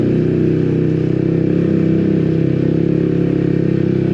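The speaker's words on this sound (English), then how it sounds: "That is a loud exhaust." Steady, loud exhaust note from a Yamaha XSR 125 motorcycle ridden over cobbles, a continuous throbbing single-cylinder drone close to the mic with no talking.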